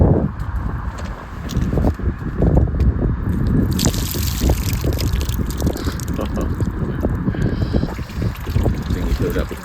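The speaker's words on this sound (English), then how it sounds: "Filled up with water last night, so draining it out." Water drains and trickles out of a child's rain-filled gumboot outdoors by a moored boat, with steady splashing and dripping close by over a noisy background.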